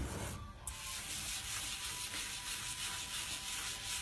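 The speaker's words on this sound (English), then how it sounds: "just gonna do a little gentle scrub" Someone gently scrubs a kitchen stovetop with a sponge, making a steady, close rubbing and scouring sound with a faint rhythmic back-and-forth pulse and no voices.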